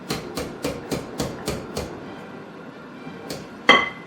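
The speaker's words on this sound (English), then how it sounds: "And we're going to whisk these together again." A whisk clicks rhythmically against a bowl while mixing fraisier cake batter with cornstarch and flour: about seven even strokes, a pause, then two more clinks, the last one louder.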